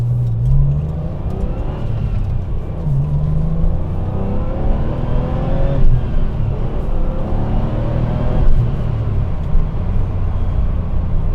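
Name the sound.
1997 Porsche 993 Turbo engine accelerating while driving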